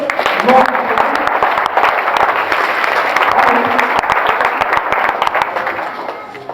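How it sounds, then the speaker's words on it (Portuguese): Sustained applause from a large church congregation fills the room, steady clapping throughout with some voices mixed in, tapering slightly at the end. "Pode dar uma aplauso ao Senhor?"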